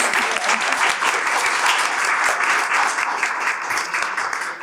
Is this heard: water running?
no